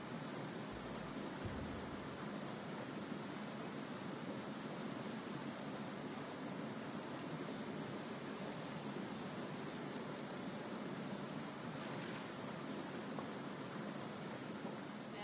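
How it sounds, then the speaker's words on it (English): Steady broadband rushing of a waterfall at a fishing spot in the video game Graveyard Keeper, a continuous hiss that stays even and fairly loud for the whole stretch, with no talk. "I hate the waterfall noise. It's like one of the worst things about that fishing spot."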